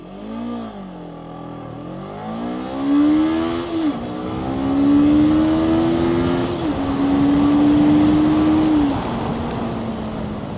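A Voge 525RR motorcycle accelerating hard from a standstill, the engine climbing steeply in pitch through first gear, then holding a loud, steady high-revving drone as it pulls through the gears, close and without talk.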